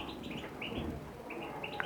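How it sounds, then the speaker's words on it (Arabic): Many birds chirp in an aviary, short high tweets and calls overlapping in quick succession over a soft, low cooing, at moderate loudness with no talk. "كيف ما كتشوفوا عنده الطيور بزاف"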